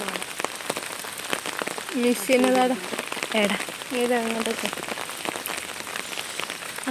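Steady rain patters on a surface throughout while a person talks briefly in the foreground.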